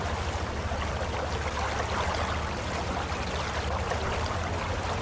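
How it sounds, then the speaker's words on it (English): Ambient flowing water from a stream in the video game World of Tanks, a steady, fairly loud rushing wash that continues without a break. "That ambient water is so loud."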